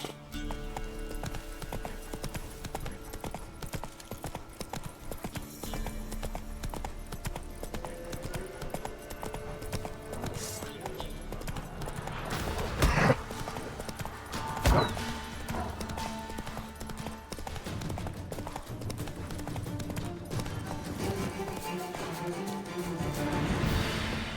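Roach the horse's hooves clip-clopping in The Witcher 3, a steady rhythmic trot of hoofbeats that continues throughout, with a couple of louder thumps partway through.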